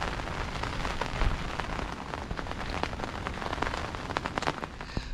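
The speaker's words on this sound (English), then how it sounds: "Rain's still coming down and it's still really windy." Rain patters hard and constantly at a windy fishing lake, a close, crackling wash of drops striking surfaces with scattered sharper taps, no voices.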